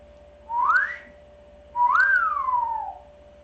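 A pet bird whistles twice, close and clear: first a short rising note, then a longer note that climbs and slowly falls away, against a quiet room hum.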